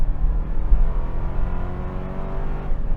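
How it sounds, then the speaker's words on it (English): 2025 Toyota 4Runner SR5 launching from a brake-torque start at night in two-wheel drive, a loud, close, deep engine drone climbing steadily in pitch as it accelerates, heard from inside the cabin. "So let's go ahead and torque brake here."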